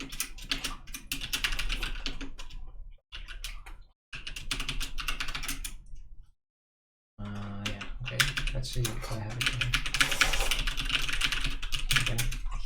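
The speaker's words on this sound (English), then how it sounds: "Hear my keyboard again." Rapid clacking of computer keyboard typing in bursts separated by brief pauses, close and clear, with someone speaking briefly between keystrokes.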